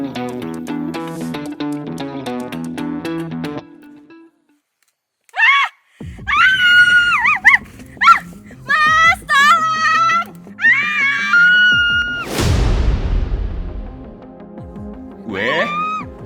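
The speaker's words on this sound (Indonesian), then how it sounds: "Kok kayak ada suara wanita teriak?" A woman screams in a sequence of shrill, wavering cries, loud and close, after a stretch of music and a brief silence, ending in a harsh noisy burst.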